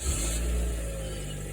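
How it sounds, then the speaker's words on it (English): A car engine runs at a steady idle close by: a continuous low rumble with no other sounds over it. "Now we're gonna take the keys and turn on the engine to see how it sounds."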